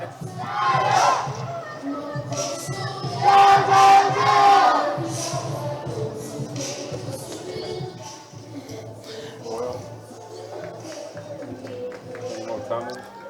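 A baseball stadium crowd at Uni-Trade Stadium during a Mexican League game roars and chatters in a broad, steady wash of voices, swelling louder for a few seconds before easing back to a general murmur.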